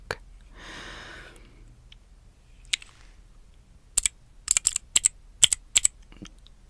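Crisp, close tapping imitates keyboard typing without a real keyboard, arriving in a quick irregular burst of sharp clicks after a soft breathy rustle, quiet and intimate in an ASMR setting.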